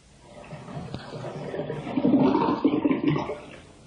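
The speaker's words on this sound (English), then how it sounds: "the water runs into the sink from the taps" Tap water pours into a sink, first a soft trickle and then a fuller, louder splashing gush that rises after the first two seconds and keeps churning close by.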